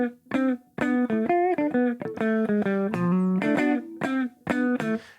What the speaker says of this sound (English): So this is without palm muting, without creating any of that little staccato feel.